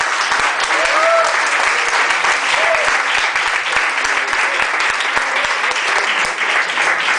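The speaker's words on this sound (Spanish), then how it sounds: "Denle un aplauso al Señor." A church congregation applauds in a dense, steady burst of clapping that fills the room throughout, with faint voices mixed in.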